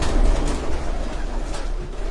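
Pigeons of a breed kept by a fancier coo steadily at close range, their soft low calls running continuously through a short stretch with no talking.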